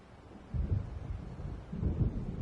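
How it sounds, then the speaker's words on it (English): Low, muffled thunder rumbles twice from an approaching storm in Alan Wake Remastered, deep and distant, each roll swelling and fading with no other sound over it. "It seems there's a storm coming."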